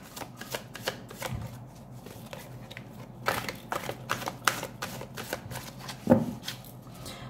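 A deck of cards being shuffled before a card reading, with repeated soft riffling flutters and taps up close, and a sharper slap of cards near the end, without talk.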